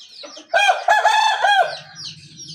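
Village roosters crowing, one loud, close cock-a-doodle-doo rising and holding in the middle, with softer clucking and low fowl sounds before and after.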